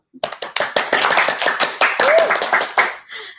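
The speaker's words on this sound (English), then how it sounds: "Round of applause for Miss Jess." A small audience at a Sunday competition event claps, a close round of sharp, distinct handclaps in quick succession that tapers off near the end, with a faint voice briefly audible.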